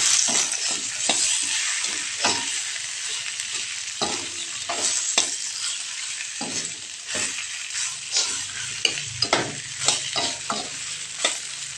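Kancil (mouse-deer) meat fries in a pan and is stirred with a utensil, giving a steady close sizzle broken by repeated scraping strokes.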